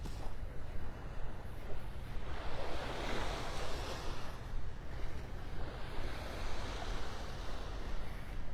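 Surf washes steadily onto the sand at Delnor-Wiggins beach in North Naples, Florida, broad rushing waves swelling and fading under light wind, near and continuous with no voices.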